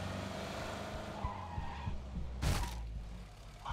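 A car engine in PUBG: Battlegrounds hums steadily with a brief tire screech midway, game audio at moderate volume.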